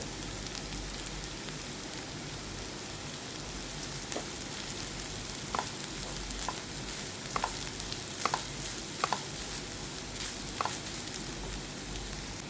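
Onions and grated coconut fry in a pan for chammanthi, a steady close sizzle with scattered small crackles and pops, no voices.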